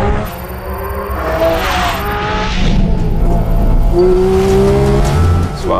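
Porsche 718 Cayman GT4 RS racing on the Nürburgring Nordschleife, a loud engine heard from inside the car climbing and shifting through gears with sustained high-pitched wailing revs and some tire noise.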